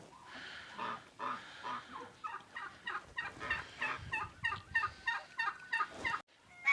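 Repeated honking and gabbling calls from geese, close by, in a rapid series of short bursts that grow more rhythmic toward the end.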